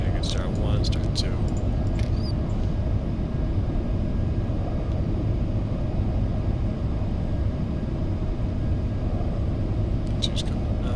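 Embraer E175 jet engines spooling up in the X-Plane 12 flight simulator, a steady low rumble and hum that holds throughout, with brief radio chatter over it.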